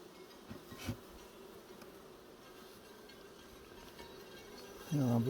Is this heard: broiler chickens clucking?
no